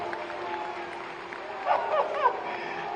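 Audience applause welcoming Yogi Adityanath at a birthday gathering for Sadhvi Ritambhara, a steady wash of clapping from a crowd with a brief swell of louder claps and voices midway.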